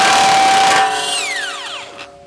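A 3/4 inch drive impact wrench with a 36 mm socket removing a CV axle nut on a 2012 Honda; a short loud burst of hammering that releases, then the tool's whine spins down and fades over a couple of seconds.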